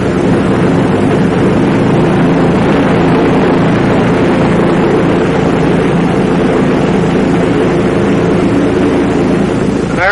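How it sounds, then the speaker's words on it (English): Douglas DC-7 piston airliner engine run-up before takeoff, a loud, steady, sustained propeller-engine roar with wind-like rumble, unbroken throughout with no talk. "Now, another check, including a run-up of the engine."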